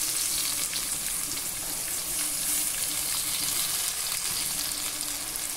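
Tomatoes tipped into a hot pan of salted oil sizzle and fry in a steady, dense hiss that holds level for several seconds, close and fairly loud, with no voices.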